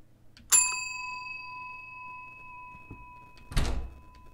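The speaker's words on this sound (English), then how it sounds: "I'm gonna ring the bell." A bell rung in the horror video game Demon Mother gives a single sharp metallic strike with a long, clear ringing decay, followed by a dull thud a few seconds later.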